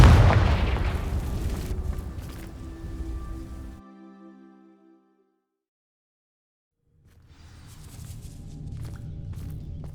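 A Confringo blasting spell explodes in the Hogwarts Legacy video game with a loud, close, rumbling boom that fades over a few seconds into near silence, followed by quieter ambient game sounds.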